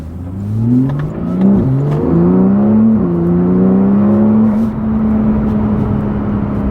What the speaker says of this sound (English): So it's a lot more powerful because of the exhaust. So, and obviously, the exhaust sounds amazing.